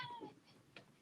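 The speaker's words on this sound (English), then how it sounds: "Sorry, that's my cat." A house cat meows faintly in a quiet room, a short rising meow followed by a small second call, heard alone without talking.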